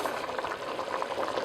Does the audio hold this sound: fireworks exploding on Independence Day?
no